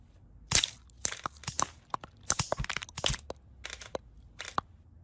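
Loud crunching and cracking chews of hard, brittle baseball card gum in a cartoon, coming in irregular bursts up close with brief pauses between bites.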